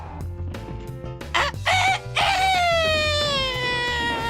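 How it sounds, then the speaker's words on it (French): A rooster crows at full voice over a busy musical backing, a sustained, loud call that rises and trails off in the second half, with animal noises and spoken narration around it. "le coq se mit à chanter à plein poumon."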